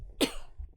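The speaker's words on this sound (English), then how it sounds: "That's why we're coughing" A single short, sharp cough from a podcast host, brief and close, with quiet around it.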